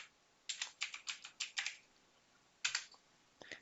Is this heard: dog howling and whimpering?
no